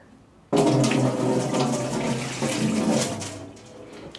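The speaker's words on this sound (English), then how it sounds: "take them out and rinse them with water again" Tap water gushes steadily over plant pots as they are rinsed clean of dark algae, starting abruptly and running loud and close for several seconds with slight splashing changes.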